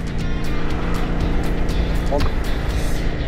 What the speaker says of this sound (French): Toutes les motos démarrent.